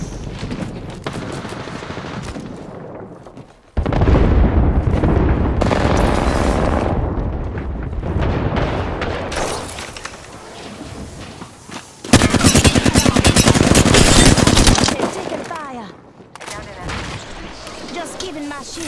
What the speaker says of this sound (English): Heads up. Got an airstrike coming in.